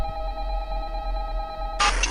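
Telephone ringing in the video game Five Nights at Candy's 2: a steady electronic ring tone with stacked harmonics holds for most of the clip, then a burst of noisy static cuts in near the end.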